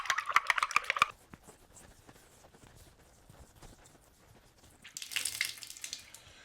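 Tap water runs briefly at the start and again near the end, rinsing off an alum block after a shave. Soft handling noises fill the quieter gap between the two bursts.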